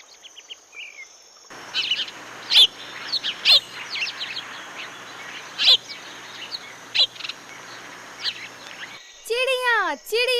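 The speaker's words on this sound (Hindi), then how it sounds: "चिड़िया चिड़िया।" Birds chirp and tweet in a series of sharp, scattered calls over a steady insect hum, a few louder notes standing out, ending in a quick run of rising and falling whistled chirps.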